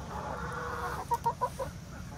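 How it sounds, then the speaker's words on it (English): Backyard chickens and roosters, checked after a hurricane, give a quick run of four or five soft clucks over quiet outdoor background noise. "I think we might have three roosters"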